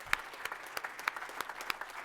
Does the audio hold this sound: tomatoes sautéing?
no